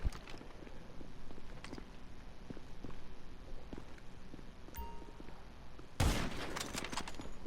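Gunfire in an online shooter video game: scattered rapid shots and bursts over a busy background, ending in a loud sharp blast near the end.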